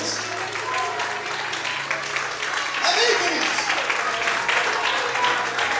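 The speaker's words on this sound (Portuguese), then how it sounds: "glorifica e aplauda o Senhor bem forte" A church congregation claps and praises during a service, a steady wash of applause that swells midway, while a preacher speaks over it.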